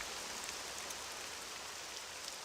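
Steady rain falls in Balmora in the video game Morrowind, a continuous soft hiss of drops that stays even and fairly faint, with no talking.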